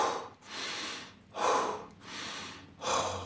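Heavy rhythmic breathing during a morning workout, three loud close inhale-exhale cycles about every 1.3 seconds with a rough, gasping edge, no talking.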